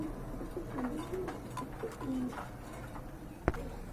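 Fancy pigeons, a pair of Damachil birds, coo softly and repeatedly at a pigeon farm, low warbling calls over a busy background, with a sharp knock near the end.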